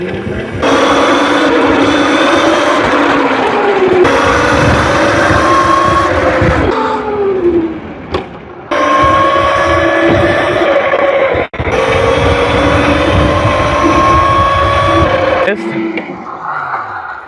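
A MilePop1 3000W electric dirt bike whines through a demo ride in first gear, its motor pitch rising and falling over several loud pulls separated by brief drops, heard close up.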